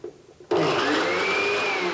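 A kitchen blender holding avocado flesh whirs to life abruptly after a short quiet lead-in, its motor whining loudly and steadily with a slowly rising pitch until the end.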